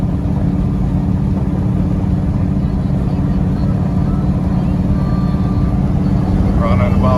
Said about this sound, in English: Now we're driving our 34 Ford.